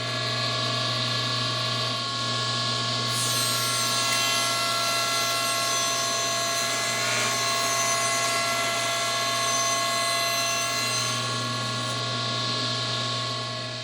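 A power tool cuts a bevel along a wooden console table panel, a steady, loud, whining drone that holds for the whole stretch and shifts slightly in pitch partway through.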